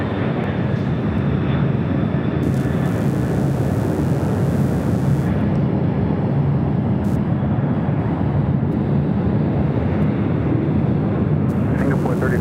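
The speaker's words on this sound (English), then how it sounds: "We do have an ABX Air 767 taking off on the south side." An ABX Air Boeing 767 taking off on the south side at LAX, a steady loud roar of jet engines filling the whole stretch, with no words spoken.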